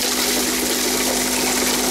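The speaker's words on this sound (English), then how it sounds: "now I'm going to fill it up with water. I've just grabbed the jug" Water pours steadily from a jug into a brine shrimp hatching tank, a continuous close, rushing splash that stays loud and even throughout.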